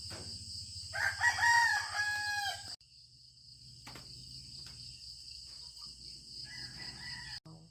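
A rooster crows loudly once near the start, with other chickens and a steady chirp of insects continuing in the background.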